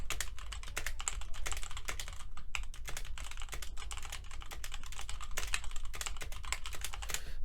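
Rapid, steady typing on a QWERTY computer keyboard, dense clacking keystrokes with no pauses, close and fairly loud, alone without any voices.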